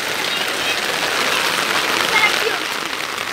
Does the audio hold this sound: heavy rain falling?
yes